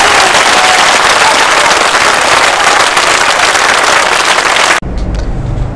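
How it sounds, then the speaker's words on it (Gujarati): A large crowd at a BJP election rally in Palanpur, Banaskantha, claps loudly and steadily in a dense continuous roar for nearly five seconds, then it drops abruptly to a quieter murmur of scattered sound. "પકડી તાળીઓ પાડો એટલે ખબર પડે"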